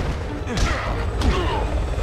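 An explosion in the video game Resident Evil 6 during co-op play, heard as a broad rumbling blast with thuds and whooshes amid constant gameplay noise, mixed with voices talking.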